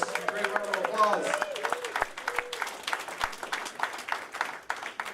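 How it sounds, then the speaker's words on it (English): At an outdoor Veterans Day ceremony in Revere, a crowd applauds a World War II veteran with steady, moderately distant clapping, voices calling out over the first second before the clapping settles into a continuous patter. "let's give Morris a great round of applause"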